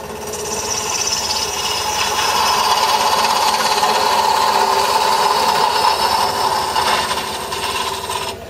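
A wood lathe turns a small wooden mushroom while a 1/2 inch spindle gouge cuts it, giving a steady, loud rasping scrape with a shifting pitch that runs unbroken and free of talk.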